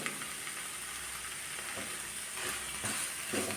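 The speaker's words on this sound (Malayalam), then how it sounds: "ഇത്രയും ചേർത്ത് പൊടികളുടെ പച്ചമണം മാറുന്നത് വരെ നന്നായിട്ട് വഴറ്റിയെടുക്കാം" Chili, coriander and garam masala powders sauté in a pan for a chana masala curry, giving a steady close sizzle with occasional scraping stirs, no voices.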